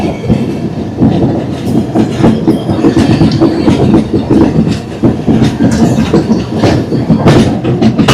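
A train rolls along the rails with loud rhythmic clickety-clack from the wheels and a rumbling carriage, heard from close by.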